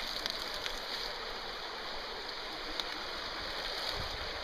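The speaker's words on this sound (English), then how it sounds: "And this is a year-round creek." Steady year-round creek flowing close by, a dense continuous wash of rushing water with small bubbling and splashing accents throughout, no voices.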